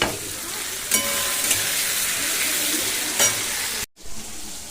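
Fennel seeds sizzle steadily in hot oil as a tempering for cooking, a continuous loud crackling hiss with a few brief spikes, then a sudden drop to a quieter sizzle near the end.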